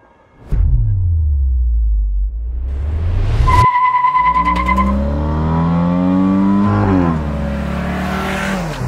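An MG6 with a 1.5-litre turbocharged four-cylinder engine making 181 horsepower and a sport exhaust idles low, then revs hard in a rising, sustained engine note, loud and close with no talk.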